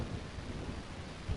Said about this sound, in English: You hear that thunder in the distance?